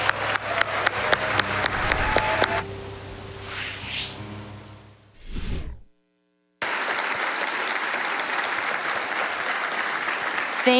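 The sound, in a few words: crowd applause at Games Done Quick event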